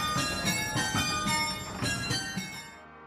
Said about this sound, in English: Up in the loft above the workshop, Whites have their own miniature ring of bells.